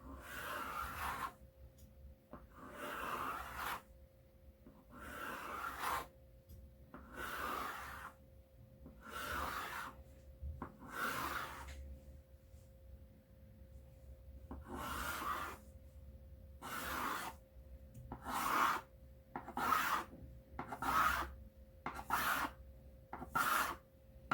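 Knife strokes slicing rolled chin chin dough into straight lines, a series of about fifteen short rasping cuts, slow and evenly spaced at first, then quicker and closer together, heard up close with no talking.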